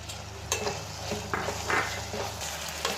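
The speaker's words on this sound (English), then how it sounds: "Fry till the tomatoes are soft" Tomatoes and half-cooked vegetables frying in a pan for oats veg pulao, a steady close sizzle broken by repeated scraping stirs and clinks of a utensil against the pan.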